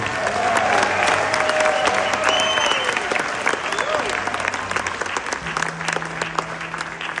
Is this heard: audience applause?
yes